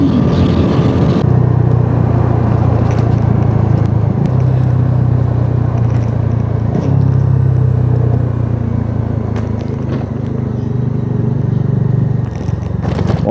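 A Triumph three-cylinder motorcycle engine drones steadily on a test ride, comparing sporty and adventure touring models, with a low even hum under wind rush and a few small shifts in pitch.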